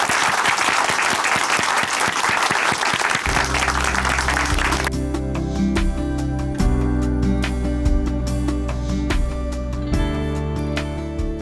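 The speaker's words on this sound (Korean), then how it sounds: "춘천한마음교회 이용남 형제님 박수로 모시겠습니다" A church audience claps warmly to welcome a speaker, a dense burst of applause for the first few seconds that then gives way to sustained musical tones.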